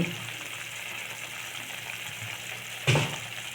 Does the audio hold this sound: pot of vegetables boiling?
yes